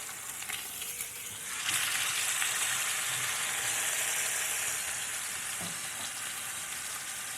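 Seasoned meat browning in a braising pot, a steady hiss of sizzling fat that swells louder as a fresh side hits the hot surface, close and continuous with no talking.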